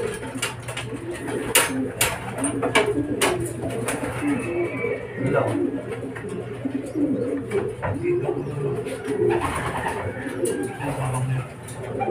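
Racing pigeons coo steadily at a loft during a derby arrival, low, throaty murmurs with several birds overlapping amid some rustling and faint voices in the background.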